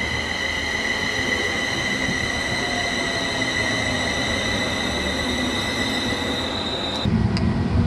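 A passenger train bound for Birmingham New Street rolls along at speed near Liverpool, giving a loud, steady rumble with sustained whining tones that cut out abruptly near the end.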